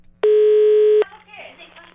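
A telephone handset gives a steady, loud tone for just under a second, then stops, followed by faint clicks and a voice over the line.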